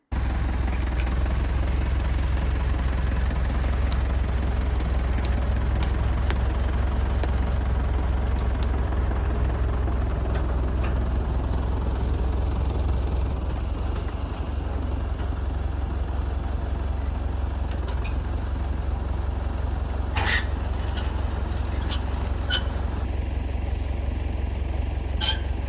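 A tractor engine idles steadily in a forest, a continuous low throb that holds even throughout, with a few faint clinks and knocks late on.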